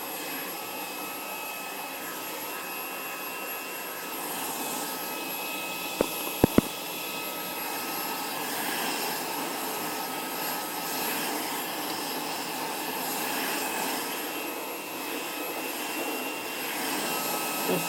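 Xiaomi mini handheld vacuum cleaner running, a steady whining whoosh with a constant high motor tone, close by, interrupted once by a couple of sharp clicks.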